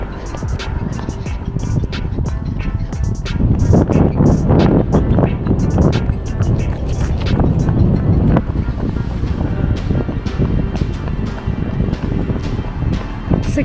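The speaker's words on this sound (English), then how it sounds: "I am running against the wind." Strong wind buffets a microphone during an outdoor run, producing a loud, continuous, roaring rumble that swells and eases but never stops.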